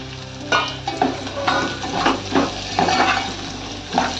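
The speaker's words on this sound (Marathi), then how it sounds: "आता ताबडतोब शेंगा घालून घेऊया याच्यामध्ये" Washed drumstick pods dropped into a hot pan for a Maharashtrian drumstick amti, giving a steady loud sizzle broken by repeated scraping stirs of a spoon against the pan.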